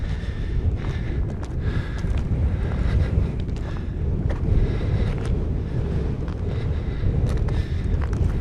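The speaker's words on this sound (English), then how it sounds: "Beautiful and windy, I might add." Steady wind rushes over a saddle above a little valley, a dense low roar of microphone buffeting that swells and eases throughout, with occasional light crunches.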